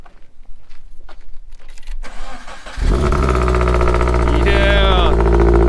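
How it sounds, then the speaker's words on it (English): A Subaru FA boxer four-cylinder in a Toyota FRS cranks and fires up, settling into a loud, steady idle close by, with a faint whine rising near the end; quiet talk and rustling come before the start. "It's a Subaru motor."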